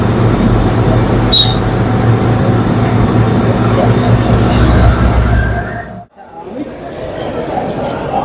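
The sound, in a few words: train at railway station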